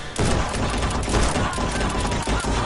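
Rapid gunfire from the PlayStation shooter Guns n Stories: Bulletproof, a dense unbroken volley of loud shots and impacts lasting a few seconds with no pauses between bursts.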